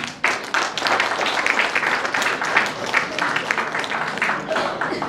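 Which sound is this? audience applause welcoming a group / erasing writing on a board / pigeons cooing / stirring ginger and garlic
audience applause welcoming a group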